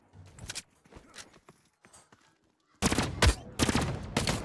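Rapid bursts of gunfire from a firefight against enemies in the video game The Cycle Frontier, sparse shots early on, then loud, dense volleys crowding the second half.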